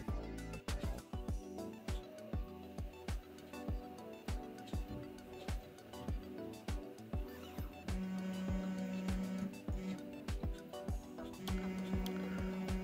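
A 3D printer running quad gantry leveling, its probe tapping out sharp, regular clicks while stepper motors whine in short tonal bursts, all close and steady with no talking.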